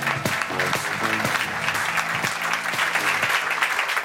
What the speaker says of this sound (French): Applaudissez les deux nommés.